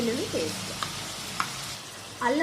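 Ginger garlic paste fries and sizzles with prawns in a pan, a steady close sizzle marked by a couple of faint stirring clicks, with a voice talking briefly at the start and end.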